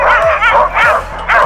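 Sled dogs bark and yip excitedly in rapid, overlapping bursts at a winter dog-sledding kennel near Quebec City, loud and close, with no talk.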